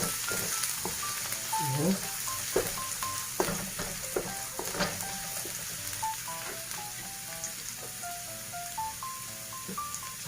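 Garlic sautéing in a hot pan gives a steady close sizzle with crackles and stirring scrapes throughout, while someone speaks briefly over it.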